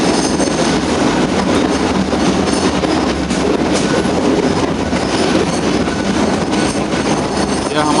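A mountain railway train on the Ooty line runs loud and steady through a short tunnel, a continuous roar of wheels and carriages with clattering rail noise throughout.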